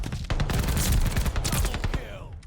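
Rapid automatic fire from an Owen SMG in Call of Duty: Vanguard, loud and close, with dense bursts of shots and sharp cracks, tapering into a ringing tail at the end.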